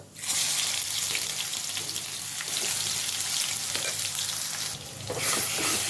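Chana dal, red chilli and a ground paste fry with mustard seeds in hot oil, giving a steady, loud, dense sizzle that runs unbroken for several seconds with a brief dip near the end, no voices.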